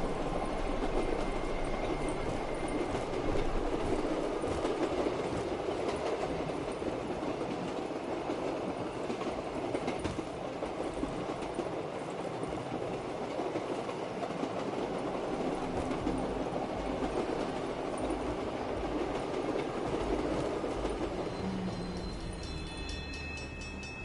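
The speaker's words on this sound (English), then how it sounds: "Maybe I should just keep riding the train." A train rolls along rails with a continuous, loud rumble and rhythmic clickety-clack, heard from inside a moving carriage for a long stretch, easing slightly near the end.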